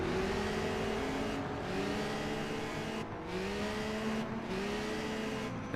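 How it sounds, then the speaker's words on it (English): Race cars in a video game lap the Tourist Trophy Dundrod circuit, engines rising and falling in pitch as several cars sweep past one after another at a steady, moderate level. "as I think that was Jake that's just gone past him"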